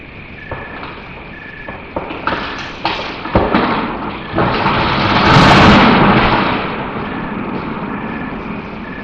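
A tree falls very close to a camp, recorded nearby: a sequence of sharp cracks and snaps builds into a loud, rushing crash of branches and trunk, then settles into lingering rustling.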